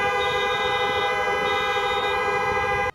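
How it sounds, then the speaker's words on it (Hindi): Several car horns blare together at a street protest in an Ohio city, with drivers standing on the road and on car roofs, as a loud, steady, overlapping honking that runs without a break for about three seconds. "जोर से हॉर्न बजाने लगे।"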